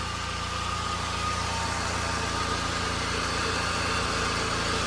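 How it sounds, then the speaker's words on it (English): Car engine idling steadily after a starter replacement, a constant even rumble with a faint hum, close by and with no talking. "I'm gonna let this idle for a little while"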